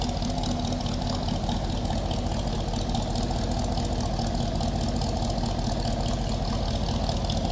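A 1956 Chevrolet Bel Air two-door hardtop idling, a steady close engine rumble with a fast even low throb and broad hiss, constant and without talk.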